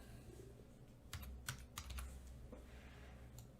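Computer keyboard typing while entering position values into component properties in design software, a quiet run of scattered keystrokes with a few louder clustered taps, close and alone.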